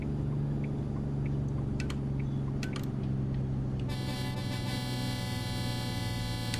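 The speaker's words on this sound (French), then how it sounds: "Regardez n'importe quel film avec des camions américains, c'est généralement ce genre de son que vous aurez sur les trompes." Air horn on an American truck driving in Europe blasts a loud, sustained multi-tone chord that starts partway through and holds steady over the low rumble of the moving truck.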